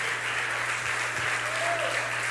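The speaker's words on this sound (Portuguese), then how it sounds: "Aplauda o Senhor Jesus mais uma vez, meu irmão." A church congregation claps during a service, an even, continuous patter of many hands filling the hall, with a low hum running underneath.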